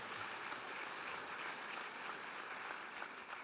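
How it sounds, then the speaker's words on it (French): An audience claps at a 2019 trophy award ceremony, producing a continuous, even wash of applause throughout the short stretch, fairly faint and without voices. "On peut vous applaudir effectivement."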